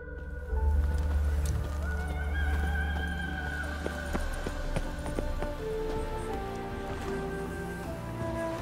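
Horse neighs and hoof clip-clops in The Witcher 3 game, with a steady ambient bed and rain-like patter throughout, the whinny standing out early and hooves tapping irregularly across the scene.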